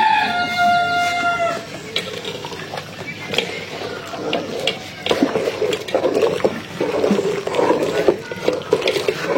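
A rooster crows once at the start, loud and close, then fades into household clatter, running water and scattered background voices.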